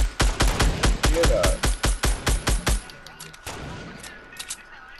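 Rapid gunfire in the Fortnite video game: a loud, close burst of about a dozen evenly spaced shots in the first three seconds, then quieter scattered distant shots, with a voice talking faintly over it.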